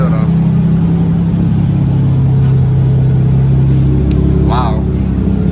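A loud car engine idles with a deep, steady rumble at a car meetup among Dodge and BMW cars, close by and continuous, while people talk nearby.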